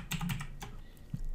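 Several quick keystrokes tapped on a computer keyboard's numeric keypad while the Alt key is held, entering a four-digit code; close, crisp clicks in a short burst, then one more isolated tap.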